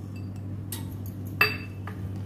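Karanji filling being stirred with cardamom powder in a pan, with a few scattered metallic clinks and scrapes of a spoon against the pan over a low steady hum.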